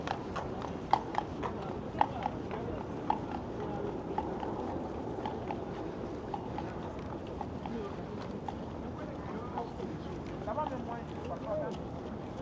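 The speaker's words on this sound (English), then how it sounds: "A lot of carriages today," Horse-drawn carriages clip-clop along a path in Central Park, New York City, with a few sharp hoof strikes standing out over steady outdoor crowd noise and distant chatter.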